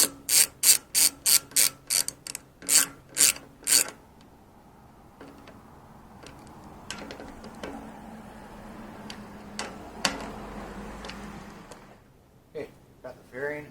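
Fuel tank bolts being fastened on a Royal Enfield Continental GT 650 motorcycle with a ratchet: a run of about ten quick, sharp clicks close by, followed by quieter scattered ticks and light mechanical handling.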